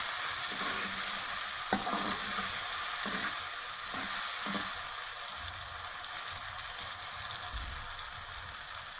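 Chicken and spices fry in a pan, a continuous bright sizzle with a few clinks and scrapes of stirring early on, steady and close with no voices.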